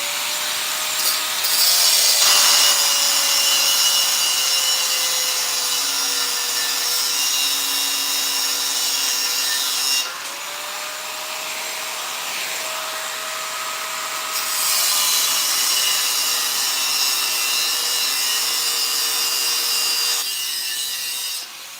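A power tool cuts through parts on a 2000 Ford Excursion, a steady loud grinding whine with a rising and falling pitch, briefly easing off midway before resuming at full strength.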